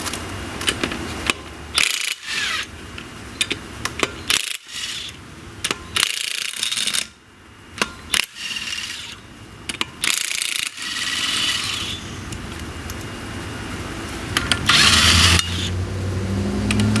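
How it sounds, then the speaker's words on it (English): Impact wrench removing a bolt on a 2008 Nissan Versa during a CV axle swap, firing in repeated loud rattling bursts separated by short pauses, close up, with no talking. "I'm going to use impact wrench."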